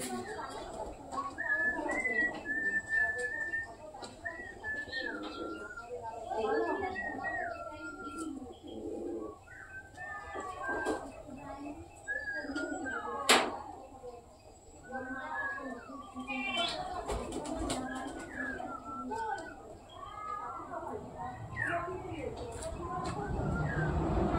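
Pigeons coo and flutter softly in a cage nearby, with a person's voice intermittently over the steady background of bird calls.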